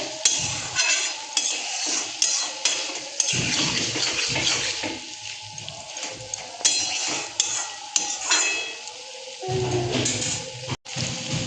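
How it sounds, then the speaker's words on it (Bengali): Poppy seed paste being stirred with potol in a pan, close and busy, with repeated metal spoon scrapes and clinks over a soft sizzle, continuous for several seconds with a short gap near the end. "পোস্ত বাটাটা দিয়ে ভালো করে একটু নেড়ে চেড়ে নেব"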